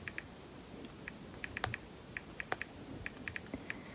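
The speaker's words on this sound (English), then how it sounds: "I'm going to type it for you." Keys tapped on a computer keyboard while a web address is entered, a sparse, uneven series of light clicks at close range, quiet over a faint background hiss with no voices.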